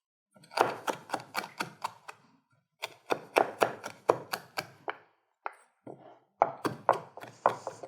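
A knife coarsely chops fresh rosemary on a board in quick bursts of sharp, close knocks, pausing between runs, with no talking.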